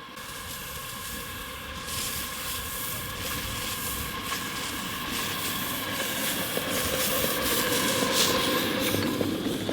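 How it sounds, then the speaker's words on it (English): Steady rumbling of a ridable model train pulling up, with hissing and a mechanical hum building slightly as it moves, at a large model railroad operations meet, no voices. "Clear to pull up the first train."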